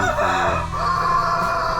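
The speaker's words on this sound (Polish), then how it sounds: "ten mój kogucik, fajny, który już zaczął fajnie piać." A young cockerel crows near a backyard henhouse, one drawn-out cock-a-doodle-doo that is loud and close, with no talk over it.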